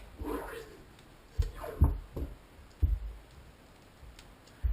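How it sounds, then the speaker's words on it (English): A knife working around the vertebrae at the base of a whitetail deer skull: several soft, sharp clicks and scraping snicks, spaced irregularly, close and fairly quiet with no talking. "take your knife and start cutting around that area"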